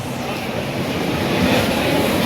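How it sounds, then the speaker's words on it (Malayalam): A train standing at a station, the Porbandar train, gives a steady, loud broadband rumble of rail noise that holds evenly for about two seconds with no voices. "ഇത് വേറൊരു ട്രെയിനാണ് ഇപ്പോൾ എന്നാ പോർബന്ദർ"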